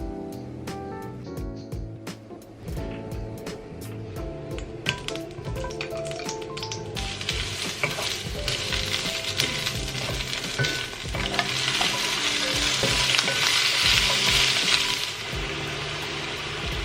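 Food sizzles and fries in a new Le Creuset pan, the hiss building louder over time with clicking and tapping of a utensil stirring against the pan.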